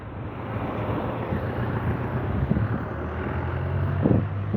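Sea waves breaking along the shore at Raml Station in Alexandria, Egypt, heard as a steady low roar and wash with heavy wind buffeting the microphone and a couple of louder surges.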